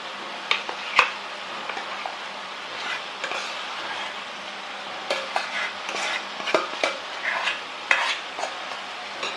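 Cooked dal and tamarind juice for sambar are stirred together in a pot with a ladle, producing repeated close scraping clinks and wet sloshing in uneven bursts, with no voices.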